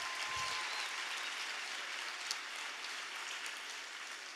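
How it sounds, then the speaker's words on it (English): Sustained audience applause at an evening conversation event on race and privilege, a steady dense wash of clapping that holds evenly from start to finish with no voices. "Let's give all of you a round of applause for being here tonight"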